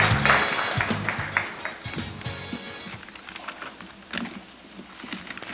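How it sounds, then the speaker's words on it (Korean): Light, scattered applause from a modest crowd at a middle school football league championship draw ceremony, soft uneven claps pattering for several seconds with no talk. "여러분, 박수로 맞이해 주시기 바랍니다"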